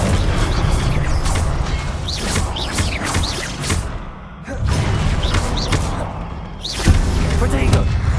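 Magical blasting-spell explosions boom out in the Hogwarts Legacy video game, with heavy thuds and crashing impacts over a dense, continuous battle din and speech-like voices, briefly dropping away before resuming.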